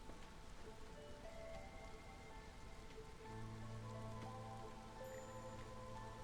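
Rain falls steadily in the city-builder game Against the Storm, a soft continuous patter with faint sustained tones beneath it and no speech.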